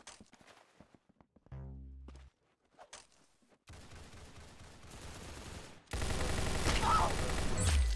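Gunfire from the Roblox game Arsenal: scattered shots and brief bursts at first, then a loud dense volley near the end, with no talk over it.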